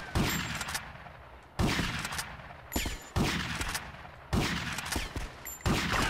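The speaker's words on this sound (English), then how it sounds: "I'm just sniping these bitches with a shotgun." Repeated shotgun blasts in GTA: Vice City, five heavy booming shots roughly a second apart, each with a loud attack and a decaying tail.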